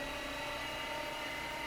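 A Weston #8 electric meat grinder runs steadily while its auger grinds beef or pork, giving a continuous, even motor whine and hum with no breaks and no voices.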